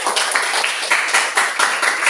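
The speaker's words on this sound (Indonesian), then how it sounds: "berikan tepuk tangan buat Tuhan" Elementary school pupils at a Christian and Catholic spiritual session clap together in a quick, loud, rhythmic patter that fills the room with no talking.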